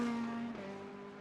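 GT3 race cars from the iRacing simulator at Circuit Gilles-Villeneuve, a steady engine whine with a pitch that holds and then drops slightly, heard alone without commentary.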